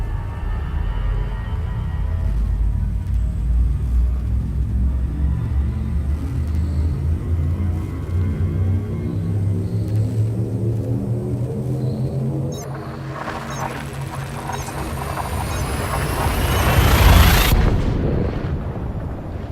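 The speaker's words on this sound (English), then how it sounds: "Frameshift drive charging." A spaceship's frame shift drive in Elite: Dangerous charges up, a deep steady rumble building and rising into a bright, swelling whine that peaks and cuts off near the end.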